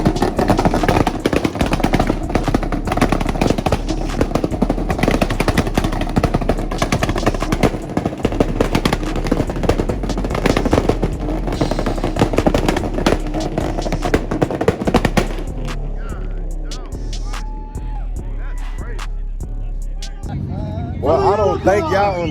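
Loud cars launching off the line at a street car meet, engines roaring and revving hard with crackling exhaust bursts, continuous and close for about fifteen seconds, then fading under crowd noise and talk.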